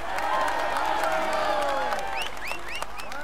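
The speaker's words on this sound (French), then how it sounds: "Allez, on l'applaudit encore." A large crowd applauds and cheers a cyclist in a Tour de France cycling game, sustained clapping with whoops and whistles rising over it, steady and fairly loud, while a commentator talks.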